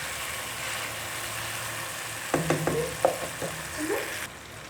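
Minced keema tipped into a pan of softened tomatoes, setting off a steady sizzle with a few sharp spattering crackles and bursts of stirring, fairly close and with no talking.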